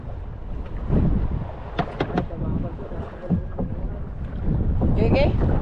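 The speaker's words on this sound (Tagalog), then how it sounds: "Yes, nakasakay na rin ako ng bangka ulit" A fishing boat runs on open water while a low engine drone mixes with heavy wind buffeting the microphone and splashy thumps, close and loud, with people talking briefly.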